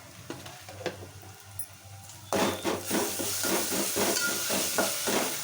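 Curry leaves are dropped into hot oil in a pan and sizzle loudly, a sudden burst of steady frying hiss that continues under faint stirring and clinking after a quieter stretch.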